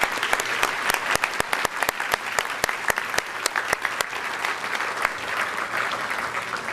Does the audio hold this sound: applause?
yes